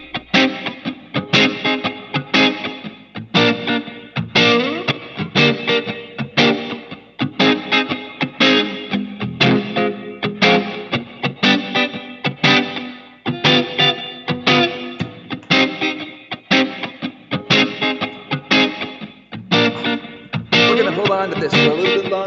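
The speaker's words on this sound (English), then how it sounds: "We'll put the reverb back on." Live electric guitar performance with reverb effect, played in a studio session; a steady strummed, effect-laden guitar with distortion and chorus-like shimmer rings out continuously, loud and close, with no talking.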